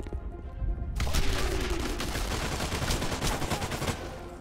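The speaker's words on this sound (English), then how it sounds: "Oh, that's a grenade!" A loud blast followed by sustained rapid gunfire in the video game Enemy Front, a dense barrage of shots rattling on for several seconds.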